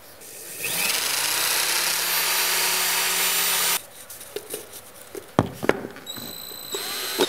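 A hammer drill bores holes for skirting board clips during laminate parquet installation, a loud steady whine for about four seconds that stops abruptly, followed by a few sharp knocks and handling clatter.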